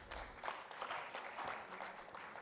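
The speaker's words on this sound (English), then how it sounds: "A louder round of applause," Clapping from an awards-ceremony audience, a dense, continuous round of applause at moderate distance with no voices over it.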